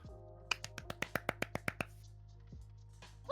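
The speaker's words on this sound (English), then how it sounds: "Oh, a round of applause for Mono." A single pair of hands claps about a dozen times in a quick, even rhythm for a finalist in a VTuber voice-over contest, crisp and close against a quiet background, then stops.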